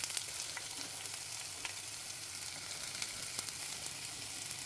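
Onions sautéing in hot oil with ginger, garlic and green chili, a steady, close sizzle with small crackles and pops and no voices.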